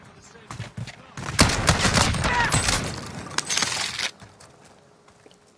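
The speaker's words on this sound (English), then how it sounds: "Watch this shotgun go to work." Shotgun blasts and a grenade explosion in a video game firefight, a dense, loud burst of gunfire lasting a few seconds and then tapering off, with voices faintly underneath.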